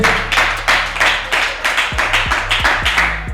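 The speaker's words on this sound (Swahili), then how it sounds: "Makofi kwa chini yake" Rhythmic clapping at a TV interview, a steady series of about a dozen close, even claps at a brisk pace, with a low hum running underneath.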